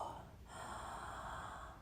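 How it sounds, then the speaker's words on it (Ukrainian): A single long, deep breath drawn in softly and held, close and quiet, with no talking. "я дихаю глибоко"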